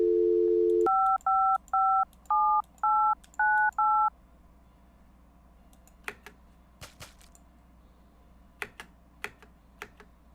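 A phone in a video game plays a steady dial tone, then seven even touch-tone beeps as a number is punched in, followed by scattered sharp key clicks in near silence.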